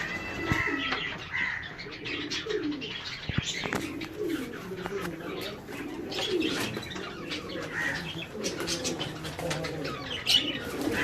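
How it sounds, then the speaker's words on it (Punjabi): Pigeons in a breeding setup at a farmhouse near Faisalabad coo softly and repeatedly. Bursts of wing flapping and scattered chirps rise and fall around them at moderate distance. "ਇਹ ਨਰਾਲੇ ਕਬੂਤਰ ਬੜੇ ਮਸ਼ਹੂਰ ਨੇ ਜੀ ਫੈਸਲਾਬਾਦ ਉਹਨਾਂ ਦੇ"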